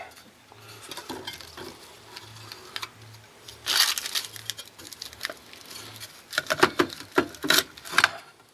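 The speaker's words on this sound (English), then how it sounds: "we got to undo the gift wrapping to see what this is" Sellotape-wrapped aluminum foil gift wrapping being unwrapped at a radio fair, producing scattered crinkling, tearing and rustling bursts, close and moderately loud, growing busier toward the end.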